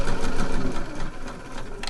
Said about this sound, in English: to sew that waistband onto the top edge of our trouser.